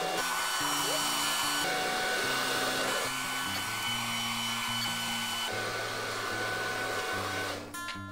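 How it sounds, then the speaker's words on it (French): A hair dryer on its cool, medium setting blows steadily across poured acrylic paint, a loud continuous whooshing roar with a motor whine that holds for several seconds before shifting near the end. "C'est parti pour le sèche-cheveux. Bouton froid et moyen."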